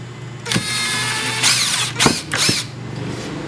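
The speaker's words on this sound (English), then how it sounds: "Is he going to use that impact driver to drill holes in that wood?" An impact driver whirs steadily while drilling holes in wood, broken by a few sharp bursts of the driver biting into the material, close and loud.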